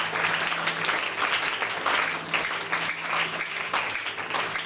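Loud, sustained applause from a church congregation, dense clapping held for nearly five seconds, with possible cheers mixed in.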